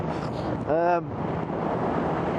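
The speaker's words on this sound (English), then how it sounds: "it is windy up here, isn't it?" Steady rushing wind buffets the microphone at a hilltop roadside stop with a Suzuki GSX650F motorcycle, a loud broadband roar with a brief tonal burst near the start.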